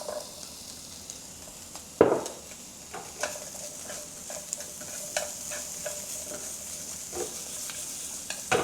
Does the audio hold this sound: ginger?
yes